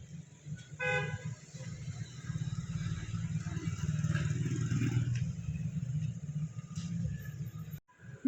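Busy road traffic near midnight: a continuous low rumble of passing vehicles with a brief horn toot early on, steady and fairly loud, dropping out abruptly near the end.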